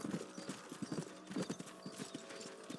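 Horse hooves clip-clop in a steady trotting rhythm in Red Dead Redemption, close and clear, with game-like ambience behind them.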